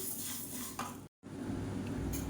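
Pulses dry-roast in a pan for puttu, with soft rustling, light scraping and clinks of a utensil, broken by a short silent gap.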